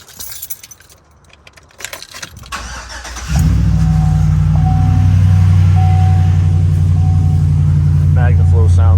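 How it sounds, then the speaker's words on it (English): A 2015 Chevy Silverado 2500 HD with a MagnaFlow muffler exhaust starts up after some key jangling and handling noises, then settles into a steady, deep, loud idle with a faint chime ringing over it. "I just put a MagnaFlow muffler on this truck, and I love the way it sounds"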